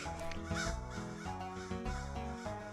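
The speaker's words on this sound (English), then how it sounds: "Oh no, the crows are angry with me." Crows caw angrily in the spooky forest game Witchhazel Woods, harsh repeated calls layered over steady in-game music, fairly close and quite loud.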